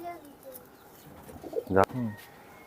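Black-green Shahjahanpuri pigeons in a loft give a soft, throaty coo that rises briefly near the end over a quiet background. Faint voices can be heard murmuring nearby.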